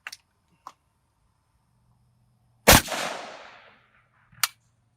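A single loud rifle shot of standard lacquered 7.62x39 ammunition cracks at a range, ringing off briefly, with a few faint clicks before and a sharp click after.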